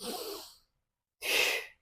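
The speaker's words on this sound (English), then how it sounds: "take a deep breath" A person takes deep breaths: two separate airy inhales or exhales, close and soft, divided by a short silence.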